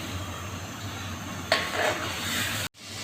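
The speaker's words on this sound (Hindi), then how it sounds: "अब ये मसाला जो है ये भुन रहा है।" Masala with ginger-garlic paste frying in a pan, a steady close sizzle with a brief stir or scrape partway through, then a sharp cut and the sizzle resuming.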